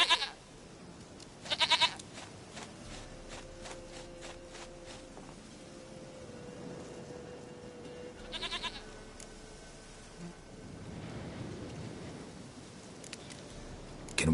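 A goat in The Witcher 3 bleats twice, loud and close, at the start and again midway, with quiet game ambience and soft footsteps in between.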